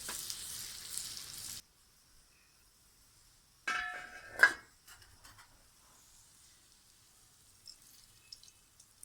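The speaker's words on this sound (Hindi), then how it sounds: "हमारा तड़का तैयार है। अब हम इसे लगाते हैं।" A hot butter tadka with capsicum, tomato and green chillies is poured over chicken makhani, giving a short hiss at the start and then a brief, sharp sizzle burst, with quiet gaps and faint pan clinks.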